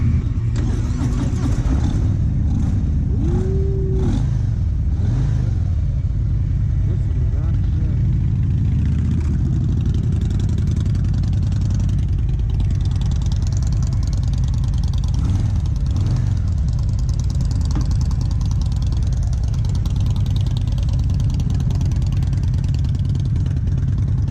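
A Harley-Davidson Breakout motorcycle engine runs throughout a test ride, a steady, loud low rumble with occasional revs rising and falling, while voices speak faintly underneath.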